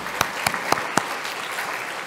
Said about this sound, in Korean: 여기까지 인도하시고 우리를 들어 사용하시는 하나님 앞에 감사와 영광의 박수 한번 하도록 하겠습니다